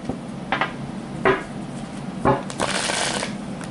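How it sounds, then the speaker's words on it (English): Tarot cards are shuffled in several short riffling bursts, close and crisp, with a longer run of shuffling toward the end and no talking. "And your cards don't really want to shuffle either."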